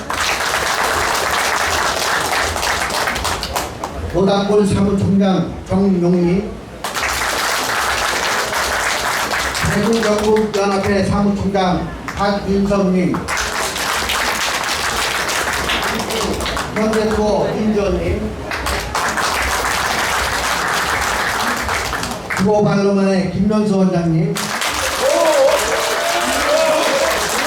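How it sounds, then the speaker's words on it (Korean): Sustained applause from a crowd at the opening ceremony of Star Rhythm Dance, a dance academy in Guro, running continuously through the whole stretch while an announcer's amplified voice reads out guests' names over it in repeated bursts. "전국 동호인연합회 모닥골명예회장 김남권 회장님 박수 주십시오"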